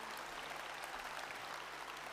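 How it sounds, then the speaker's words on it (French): Crowd at a French political rally applauds, a continuous, fairly distant wash of clapping that holds steady without voices standing out. "Vous pouvez l'applaudir"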